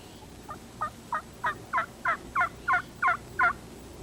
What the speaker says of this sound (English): That's the gobble of a typical Rio Grande.